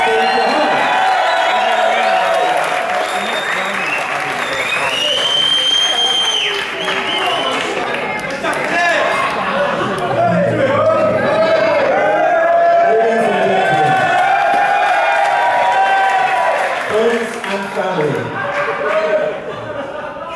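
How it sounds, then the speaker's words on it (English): At a wedding reception, guests cheer, whoop and clap for the best man in a loud, continuous crowd roar, mixed with raised voices and tonal sound running the whole time. "Applause, please, for the best man, Mr. Kuljeet."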